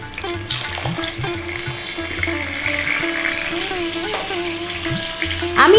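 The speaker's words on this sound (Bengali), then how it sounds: "সুতরাং তেল গরম হতে শুরু করে দিয়েছে, দিয়ে দিচ্ছি মাছের মাথা ভাজার জন্য।" A fish head frying in hot mustard oil gives a close, loud, continuous sputtering sizzle that crackles and pops throughout and swells near the end.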